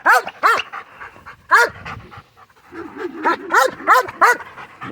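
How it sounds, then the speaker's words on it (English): A dog barks in loud, close bursts, several quick barks, a pause, then a steadier run of repeated barks, with some whimpering and panting in between, during a training session with a handler holding him. "He's still barking."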